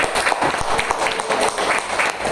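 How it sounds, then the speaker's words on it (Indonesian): A room of teachers applauds for Pak Aris at a school dissemination session on positive culture, with dense, lively clapping filling the moment and no one talking. "Baik, tepuk tangan dulu Pak Aris pertama."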